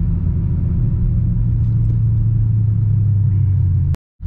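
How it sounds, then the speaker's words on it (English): A BMW E92 M3 coasts through city traffic, giving a steady, close, low engine and road rumble that holds evenly before cutting off abruptly near the end. "If I see a red light up ahead, I'm gonna let the car coast."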